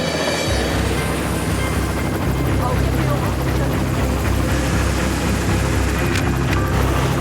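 Westpac rescue helicopter lifting off from Warkworth, a loud continuous rotor and turbine roar with steady low thumping that holds throughout, with a voice talking over it.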